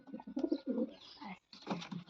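Domestic pigeons with white eyes, a male and his hen, give low throaty coos in a few short bursts separated by a brief pause, close by and fairly quiet, with no talking.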